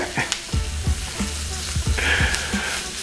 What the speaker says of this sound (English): Onions and peppers are going.